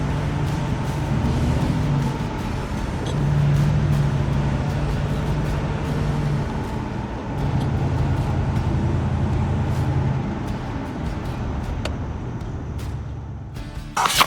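A 1981 Pontiac Turbo Trans Am SE drives along, with steady engine drone and road noise heard from inside the car and a low, even hum throughout without talk.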